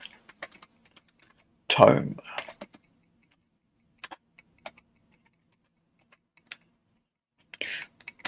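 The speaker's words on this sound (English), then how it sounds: "not good typing one-fingered with the left hand" Single keystrokes tap on a computer keyboard, typed one-fingered with the left hand, in sparse, uneven clicks spread across quiet stretches, with a brief spoken remark near the start.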